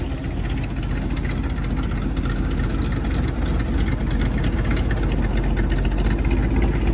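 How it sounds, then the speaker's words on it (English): A 1962 Corvette restomod's 350 V8 idles with a deep, steady rumble and throaty exhaust burble, continuous and close, with no talking. "And that exhaust sounds awesome."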